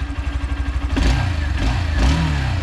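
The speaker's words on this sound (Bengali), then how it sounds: "স্টার্ট যখন দিয়েছে আপনাদেরকে একদম সাউন্ডটা শুদ্ধ শোনাই দিই এটার" A Hero Thriller 160R motorcycle starts up and runs close by, a rapid low thumping idle that rises into a louder rev and then rises again.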